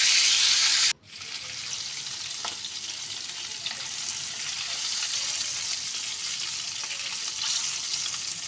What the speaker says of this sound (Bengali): এরপর আমি মাছগুলো এর মধ্যে দিয়ে মাছগুলোকে ভেজে নেব।